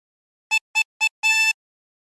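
Four drawn notes on a chromatic harmonica, inhaled through hole 7: three short, evenly spaced reedy tones and a longer held fourth, clear and solo.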